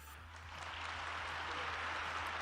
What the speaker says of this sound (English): he's getting them to clap for that